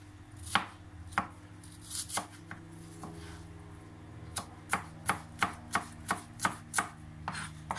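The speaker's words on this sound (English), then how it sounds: "slice this shallot like into thin slices" A blade that is not a kitchen knife slices a shallot into thin rings on a cutting board for kachumber salad, giving crisp, close cuts that start irregularly and then settle into a quick, even series of taps.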